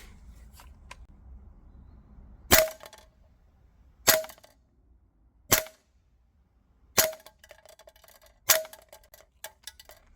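A B&T SPC9 gas blowback airsoft PCC by Maruyama, running green gas and 0.25 g BBs, fires five sharp, loud single shots spaced about one and a half seconds apart, each with a metallic clack, in a quiet setting.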